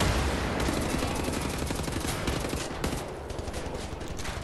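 Dense, sustained gunfire from a shotgun in Wolfenstein: The New Order, loud and continuous with overlapping blasts throughout and no talk.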